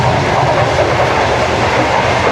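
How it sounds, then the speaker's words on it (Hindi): The Shalimar Express runs on rails at about 108 to 110 km/h near Jammu railway station, heard from inside the train as a steady, loud, continuous rumble and roar with faint rhythmic clatter. "ट्रेन दौड़े लगा रही है जी 108, 110 पे"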